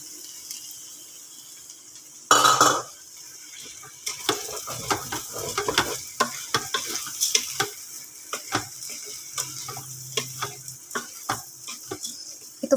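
A spoon scrapes and clacks as sauce is stirred into chicken and Chinese sausage in an Instant Pot, a sharp clatter followed by irregular close knocks and a soft sizzle.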